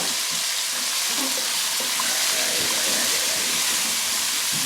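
Tomatoes and green onions sizzle in a pan with capers for a bronzini dish, a steady broad hiss of frying carrying on without a break, close and fairly loud, with no one talking.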